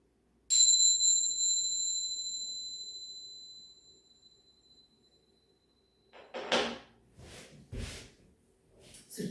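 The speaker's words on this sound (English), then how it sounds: "the next time you hear the bells" A single bright bell is struck once during a yoga relaxation session, its clear ringing tone decaying slowly over several seconds in a quiet room, followed by soft rustling movement.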